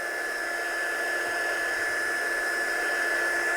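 Heat tool blows steadily to set embossing on a handmade stamped card, producing a constant loud fan whir and airy hiss with a high tonal whine, close and uninterrupted.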